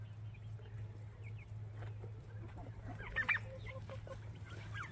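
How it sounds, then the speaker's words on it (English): Backyard chickens near a DIY coop inside electric net fencing give a few faint clucks and calls over a steady low hum, distant and quiet. "Those are our chickens."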